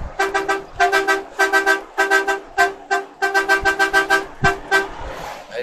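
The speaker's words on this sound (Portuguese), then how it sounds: "eu vou só buzinar aqui, dar um buzinaço com um amigo meu aqui" A truck's air horn honks in a rapid series of repeated blasts, some short and some held, on a mountain descent road. The honks are loud, close and rhythmic, with no talking.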